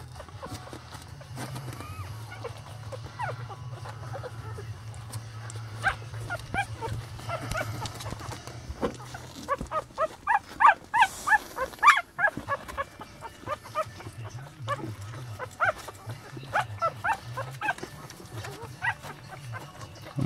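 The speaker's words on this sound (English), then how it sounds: "Get a bunch of pretty puppies." Newborn Lhasa Apso puppies whimper and yip in short high cries, clustered and overlapping, with a low hum and occasional quiet talking around them.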